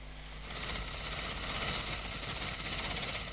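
An Alouette light helicopter flies over jungle in Kalimantan, Indonesia, carrying equipment toward a small helipad; a steady, moderately faint rotor and turbine drone holds without a break and swells slightly partway through.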